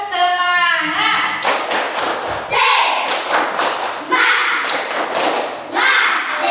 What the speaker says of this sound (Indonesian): mari kita sama-sama tepuk semangat dulu bersama